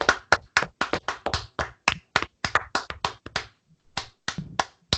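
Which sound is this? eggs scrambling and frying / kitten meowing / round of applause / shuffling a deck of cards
round of applause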